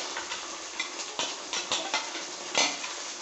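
Tomatoes tipped into a hot frying pan of frying moong dal and stirred, with a steady soft sizzle under a few scraping clinks of a utensil against the pan, close up and without speech.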